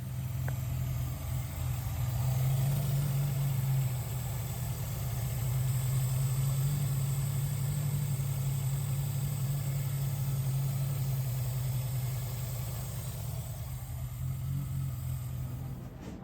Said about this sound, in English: we're gonna start the car to check for leaks